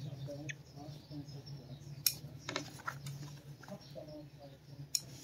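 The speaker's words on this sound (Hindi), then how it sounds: "दोस्तों धागे वगैरह हम काट देंगे" Tailor's scissors snip loose threads after a shirt collar has been stitched: a few sharp, close cuts, two of them crisp and clear, against quiet room noise and faint rustling.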